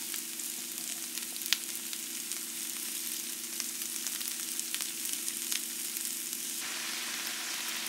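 Mixed vegetables including cabbage sauté in a hot pan, a steady close sizzle with occasional stirring clicks and pops running throughout, no voices.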